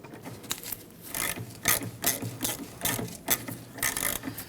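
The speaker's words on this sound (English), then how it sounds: "We're going to set it up into the top and remove that bolt." Rhythmic clicking of a hand ratchet loosening a bolt on the rear brake backing plate of a 1999-2004 Jeep Grand Cherokee, repeated close-up strokes with a metallic ratcheting rasp, no talking.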